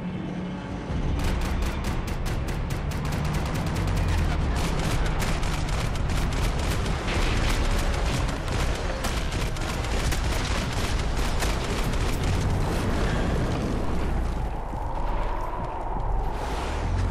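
Dense, sustained gunfire in Max Payne 3, with rapid overlapping shots and booms forming a loud, continuous barrage that fills the whole stretch.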